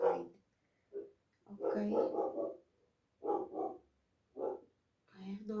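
A dog barks in several short, clear bursts spaced a second or so apart, fairly close, with a brief spoken word between the barks.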